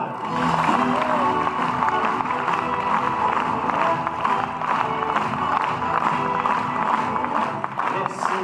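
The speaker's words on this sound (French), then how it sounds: "sous vos applaudissements et chaleureux, Gérard Hoffman" Warm audience applause and cheering fill a festival opening ceremony hall for Gérard Hoffman, godfather of Côtes-d'Armor cinema, at the Cinéland 2018 short film festival in Brittany, a steady dense clapping that holds loud throughout.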